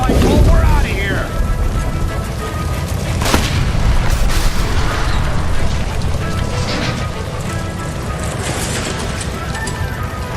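Gas line explosion in L.A. Noire: a deep, loud boom opens, then a roaring, crackling blaze rumbles on continuously beneath shouted voices.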